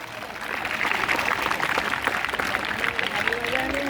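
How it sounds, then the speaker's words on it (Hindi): An audience at a school inter-house group song competition claps steadily for the student instrument players, the applause a dense, even wash holding for the full few seconds with faint tonal sounds beneath. "उनके लिए जोरदार तालियां बजाएंगे"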